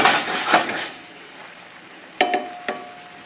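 White wine and quartered Kalamata olives sizzle in a pan over a high flame, a soft hiss under a few clinks and scrapes of a utensil against the pan, close and moderate.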